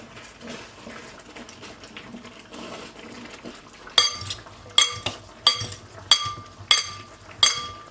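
Sauce is stirred in a pan with a utensil, a quiet scraping start followed by a regular series of sharp metallic clinks against the pan, close by.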